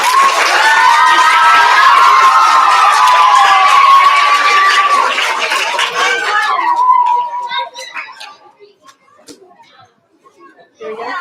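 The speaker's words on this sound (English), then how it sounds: "So can we have a round of applause for our fifth grade?" An audience at a school student recognition ceremony cheers and claps for fifth grade students: loud crowd whoops and chatter that swell, then fade into scattered claps and voices.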